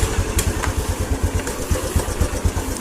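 A Honda Revo motorcycle with a weak charging system idles nearby after being started, its engine thumping in a steady rapid pulse, loud and unaccompanied by talk.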